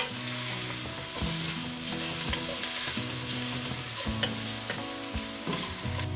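Garlic and onions, with thyme and rosemary, sizzle steadily in hot oil in a pan, a continuous close crackle broken by occasional scrapes of stirring and faint tonal sounds underneath, with no talking.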